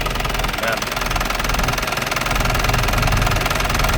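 An Isuzu Dragon Eye pickup's engine runs steadily close by, a dense rough idle that is loud and continuous throughout, with someone talking over it.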